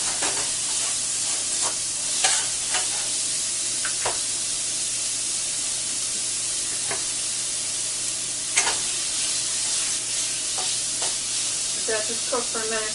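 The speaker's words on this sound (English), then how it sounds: "we're going to put the bacon in first. Let that just cook for just a minute" Bacon frying in a pan, a continuous bright sizzle with scattered sharp crackles and pops, steady and close, with faint clicks of stirring near the end and no talking.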